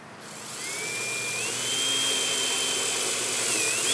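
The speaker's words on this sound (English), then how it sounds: "we're now going to follow that up with a somewhat longer 3/16 inch bit." A power drill fitted with a 3/16 inch bit spins up and whines steadily, close and fairly loud, with the pitch rising slightly as it bores while adding tail lights to a Grand Design Momentum 376TH RV at a campground.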